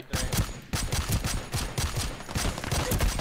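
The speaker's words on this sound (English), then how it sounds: "he's trying to shoot me" Rapid gunfire in the shooter game ROE: a loud, steady stream of close shots that keeps rattling through the whole stretch, with shots overlapping and no pauses, and no voices on top.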